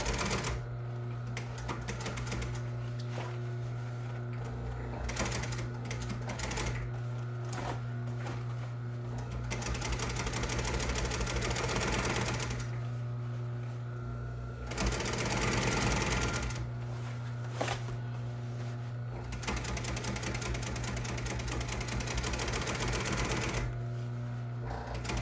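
A commercial upholstery sewing machine, a heavy-duty line, stitches dining seat covers in steady runs of rapid mechanical chatter, pausing and restarting several times over a constant low motor hum, close and loud.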